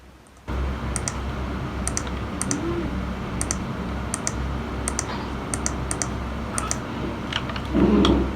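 Standoff screws being installed in the PC Building Simulator game, heard as a series of short, sharp clicks in quick pairs and clusters over a steady background hum, fairly close and moderately loud.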